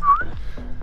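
A short airy whistle through a gap in the front teeth slides through a sibilant breathy sound, followed by soft hissing puffs, close and fairly loud.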